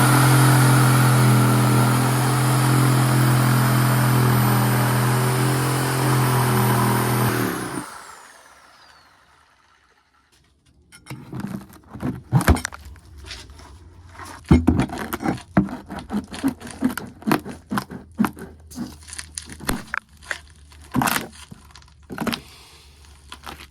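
Sawzall reciprocating saw cuts through rotted wood, first a loud sustained buzzing run, then after a short pause a stretch of uneven rattling, knocking and scraping as the pieces are worked loose.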